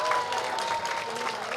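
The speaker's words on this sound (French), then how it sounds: "Je voudrais qu'on l'applaudisse très très fort, s'il vous plaît." A crowd applauds a motorcycle prizewinner at an agricultural challenge event, steady clapping filling the short moment at moderate distance with a faint tone running through it.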